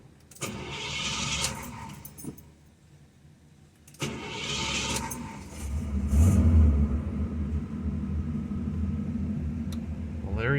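A 1977 Cadillac Eldorado starting in a parking lot: a rough crank, then a deep engine catch settling into a steady low idle rumble, with brief faint movement before it.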